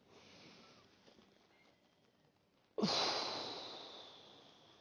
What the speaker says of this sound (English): Let's do the breathing one more time